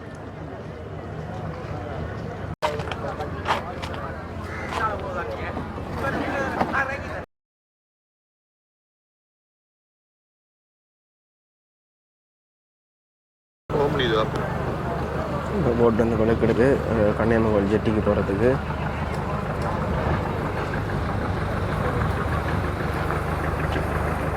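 A boat's engine idles and runs steadily near a jetty on an island after a storm, a continuous low drone under voices, broken by a stretch of complete silence before the motor noise returns.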